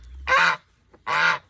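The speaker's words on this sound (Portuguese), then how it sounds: "Olha o ganso, que lá é bravo, Kemi." A goose on a free-range farm gives two loud, close honks about half a second apart, with a brief quiet gap between them.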